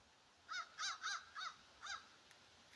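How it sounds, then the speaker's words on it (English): A crow caws from a pine tree in the morning, five distinct, evenly spaced harsh calls at moderate distance in quiet outdoor surroundings. "There's a crow up there saying good morning."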